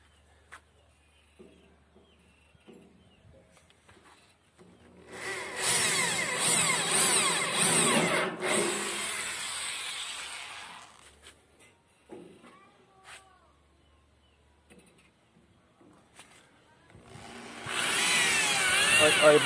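Power drill boring a hole with a thin bit while fitting a hitch part onto a small trailer, with a loud sustained whir from about 5 to 10 seconds and a second burst near the end.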